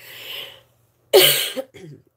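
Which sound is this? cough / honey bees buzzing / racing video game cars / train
cough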